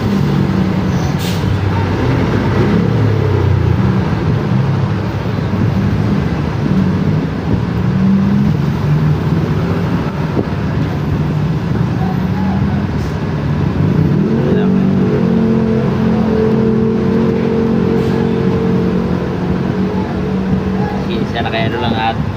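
Trucks delivering sand next to a hardware store rumble on as steady, loud engine noise through the whole stretch, with a rising engine tone near the end and speech heard under it.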